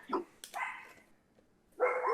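A dog barks outside at night while deer pass through the side yard: a couple of short barks, a pause, then another longer bark, moderately distant and fairly faint.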